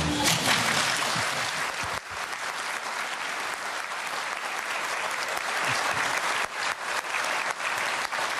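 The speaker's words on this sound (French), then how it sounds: "On peut applaudir" A congregation at a solemn Catholic mass opening the Jubilee at Notre Dame du Laus breaks into sustained, dense applause that holds strongly for over eight seconds, with a brief dip near the start.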